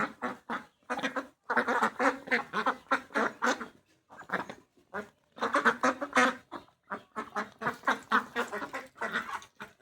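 Large, fully grown domestic ducks quack in a fast, irregular run of nasal calls, fairly close and clear, with short gaps between bursts.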